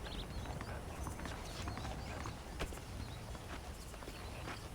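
Saddled horses walking in a Red Dead Redemption town, steady hoof clip-clops running through the whole stretch over a quiet game-world background, with no talking.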